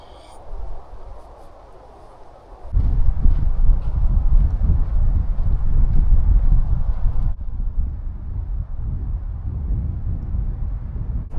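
Strong wind on a hike across a volcanic island, a low roaring buffet against the microphone that suddenly swells and stays heavy and continuous, easing slightly near the end.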